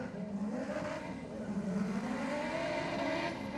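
A Honda CR-V launches down a drag strip at an old-school theme race night, its engine droning steadily and rising slightly in pitch at a moderate distance.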